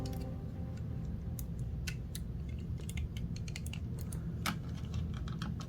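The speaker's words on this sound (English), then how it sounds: "we are going to hinge these up until they kind of click into" A WFC Kingdom Optimus Primal transforming action figure gives a few sharp, isolated plastic clicks as its parts are hinged up and snapped into place, over a steady low background hum.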